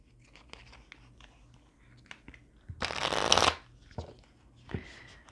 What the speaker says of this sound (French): Je veux bien mélanger les cartes